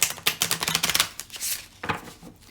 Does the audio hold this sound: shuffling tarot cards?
yes